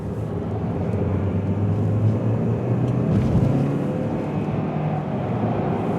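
A 2014 Hyundai Elantra GT pulls away under light throttle, its quiet engine note rising steadily beneath road and tyre rumble, heard from inside the car with no talking.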